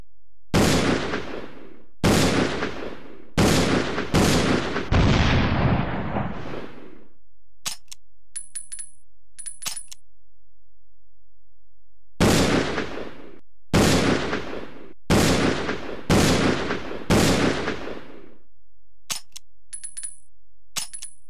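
Revolver shots in Resident Evil Zero HD Remaster fire in two volleys of sharp, loud blasts, each with a short echoing tail, separated by a quiet gap holding faint clicks and small game beeps.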